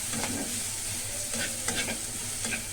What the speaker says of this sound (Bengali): এখন ভালো করে নাড়াচাড়া করে নেবেন